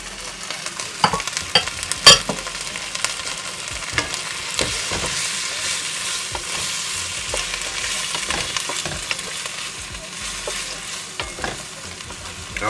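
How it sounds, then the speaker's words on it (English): Baby corn and broccoli florets stir-fried in a pan with tofu noodles, a steady close sizzle with frequent scraping and stirring clatter throughout, no voices. "I'm going to stir this up so it all mixes in and gets all that flavour and that good stuff in there."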